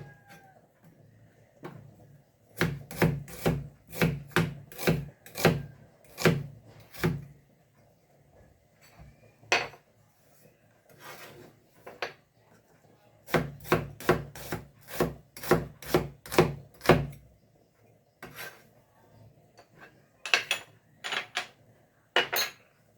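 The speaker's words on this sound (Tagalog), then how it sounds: "Maghiwa po muna tayo ng ating sibuyas, mga kaibigan." Onion chopped with a knife on a board, bursts of rapid rhythmic thuds close up separated by quieter pauses and scattered single cuts.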